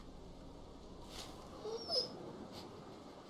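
A dog in The Walking Dead: Season 2 video game lets out a couple of faint, brief whimpering yelps over quiet background ambience, with no voices.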